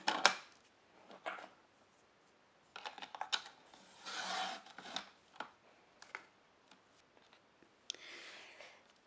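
Card paper being cut for a handmade gift card, heard as short close scraping and slicing strokes in separate bursts with quiet pauses between them.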